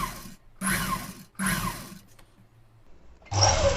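A sewing machine stitches a blouse in short bursts, two quick whirring runs separated by pauses, then a quieter stretch and a louder burst at the end, close by.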